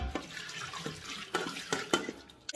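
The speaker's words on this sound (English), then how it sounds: "I have a tap and it's running with hot water" Hot water runs from a tap into a sink holding a chicken, splashing with a few sharper taps and knocks against the basin, fairly quiet and close.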